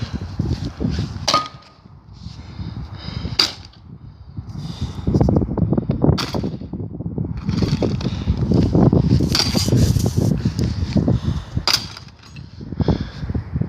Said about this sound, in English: Karen, you try with the axe now.